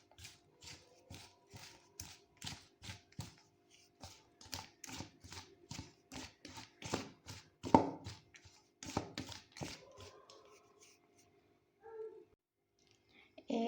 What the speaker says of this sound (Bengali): সাদা তেল, এটাকে এরপর ভালোভাবে হাত দিয়ে মেশাবো।